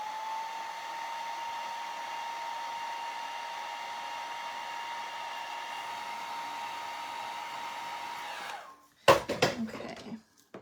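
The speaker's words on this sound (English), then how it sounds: "Let me just quickly blow this dry." A blow dryer runs as a steady, close, loud whir for about eight seconds while it dries stamped farmhouse Christmas decor. It then cuts off, followed by a few clattering knocks of items being handled.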